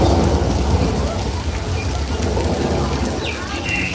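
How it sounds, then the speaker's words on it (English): Artificial rain effect at a Universal Studios Hollywood backlot set, a steady dense hiss of falling water pattering on surfaces, close and continuous, with faint bird-like chirps near the end. "if you're trying to capture the rain here on your phone, it might be a little hard showing up"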